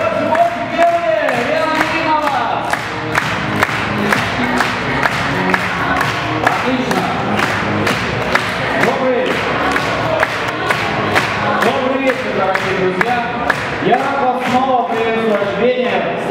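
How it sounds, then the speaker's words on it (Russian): The audience at the opening of a KVN comedy game claps in a loud, rhythmic unison beat, with cheering and shouts rising over the hall, and voices mixed in. "Друзья, можно аплодировать"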